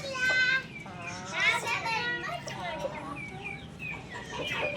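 A hen clucks in short, repeated calls nearby, mixed with the high chatter of children's voices in the background.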